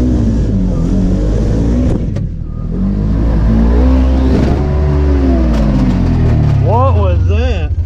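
An off-road vehicle on a muddy Windrock trail revs hard after popping out of gear, its engine loud and close with rising and falling pitch sweeps near the end.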